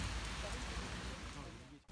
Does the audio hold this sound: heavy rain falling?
yes